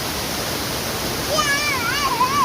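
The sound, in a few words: stream water flowing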